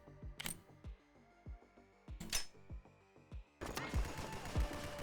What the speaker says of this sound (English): Gun go bang.